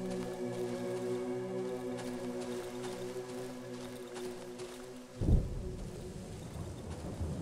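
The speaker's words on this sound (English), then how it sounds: "What was the thunder and lightning?" Thunder in the survival horror game Darkwood: a sudden deep rumbling crack bursts out over a steady droning ambience and then rolls away, loud against the background, with no talking.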